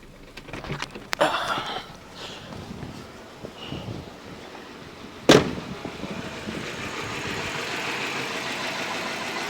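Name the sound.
Nissan Pulsar N15 GA14DE engine running on three cylinders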